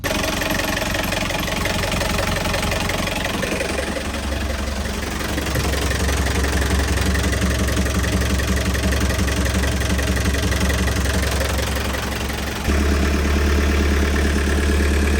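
A boat engine idling after coolant system work, a steady close rumble with a rattling knock that shifts to a deeper, louder tone near the end, with no talk.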